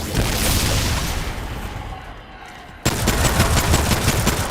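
A full magazine is emptied in the shooter game Remnant 2, rapid sustained gunfire with dense crackling bursts, a short lull and then another hard stretch of continuous firing.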